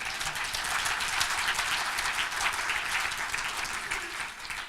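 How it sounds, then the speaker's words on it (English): Audience applause fills a lecture hall at a Rotary Club luncheon meeting in Louisville, a steady, dense wash of many hands clapping that holds evenly throughout, with no talk over it. "You're supposed to cheer."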